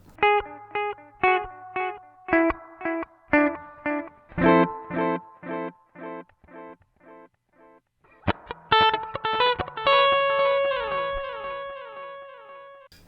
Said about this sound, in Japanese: 結構リバーブがしっかり入ってきたのが印象的ですね